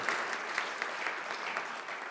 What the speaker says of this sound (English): Let's give them a round of applause for their stepping up here.